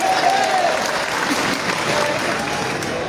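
A political rally crowd applauds candidates for Congress, a dense, steady wash of clapping filling the space, with a faint voice briefly audible at the start.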